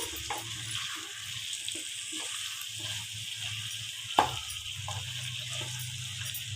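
Pepper mutton fry with freshly added spring onions sizzles in a pan while being stirred, a steady moderate hiss broken by soft scraping strokes and one sharp clack of the spoon.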